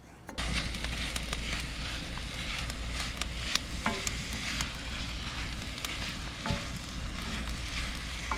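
Chopped chorizo sizzling and crackling steadily in a hot pan while being cooked down as a filling for stuffed jalapenos, with a dense continuous fry broken by occasional sharper pops and stirring scrapes, close and moderately loud.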